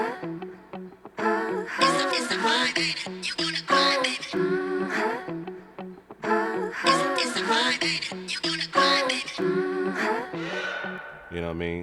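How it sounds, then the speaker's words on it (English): Looped guitar phrase heard twice through, bright and busy with dense strummed and picked notes, fairly quiet overall with a faint echo, playing alone without talk. "this is a guitar loop that I found."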